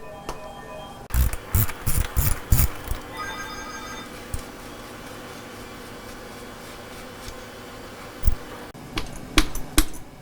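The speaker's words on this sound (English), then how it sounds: "I'll take a 32mm socket and I'm going to remove the axle" A 32mm socket on a ratchet loosening a motorcycle rear axle: bursts of sharp, rapid clicking, a quiet pause with faint ringing tones, then more clicks and knocks, close and alone.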